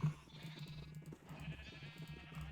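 Sheep and lambs bleating in the farming game Harvest Block, several short, soft bleats spread across the clip over a low steady background hum, with no speech.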